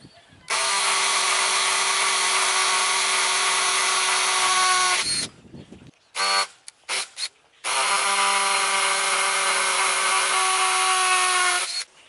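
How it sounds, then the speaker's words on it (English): Stanley FatMax cordless 20-volt lithium hammer drill running in two long steady whirring bursts outdoors while driving stakes for a dog fence wire, separated by a few short stuttering trigger pulls, close and loud. "I am using Stanley Fat Max hammer drill, cordless, 20-volt lithium,"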